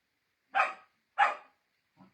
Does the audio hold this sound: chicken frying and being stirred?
no